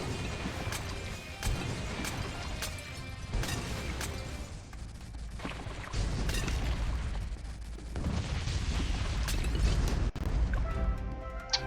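Explosions in the tower-defense video game Bloons TD 6, a string of sharp crashing bursts and pops scattered over a steady game backdrop, some loud booms standing out near the end.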